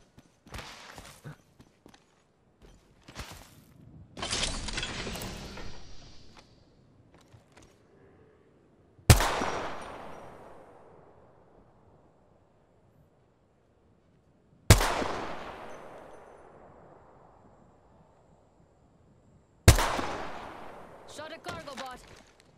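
Gunfire at a cargo bot in Apex Legends: several sharp, loud single shots spaced seconds apart, each trailing a long echoing decay, with some quieter clatter and movement in between.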